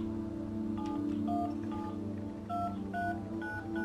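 A telephone is dialed in the video game The Final Station: a steady run of short electronic keypad tones, one after another, over a constant low background drone.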